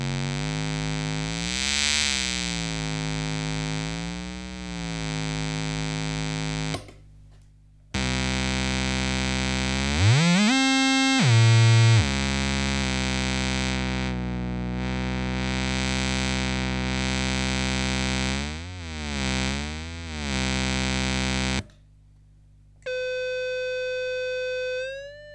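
A guitar effects pedal driven into circuit-bent, synth-like tones gives buzzy, distorted sustained drones with wobbling and sweeping pitches, sudden cut-outs and a rising squeal, ending in a cleaner pure tone.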